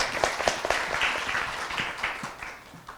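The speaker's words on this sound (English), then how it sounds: "Please welcome her with a big round of applause." An audience at an opening ceremony gives a round of applause, a moderate wash of clapping that is fairly even at first, then thins and fades over three seconds.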